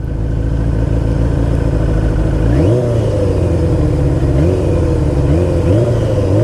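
A 1985 Kawasaki GPZ900R motorcycle engine idles in neutral, then revs up sharply several times, the pitch sweeping upward and falling back, loud and close with no talk.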